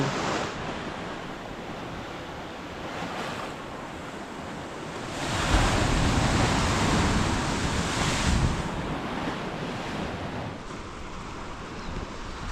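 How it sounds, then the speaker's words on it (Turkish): Surf rolls onto a beach at Paraty, Brazil, in loud, broad washes that swell and break over steady wind buffeting the microphone, with no voices. "Bu taraf biraz dalgalı şu ilerisi var."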